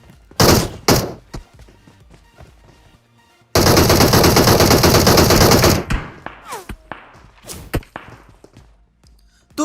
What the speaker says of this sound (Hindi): चारों तरफ से गोलियां चल रही है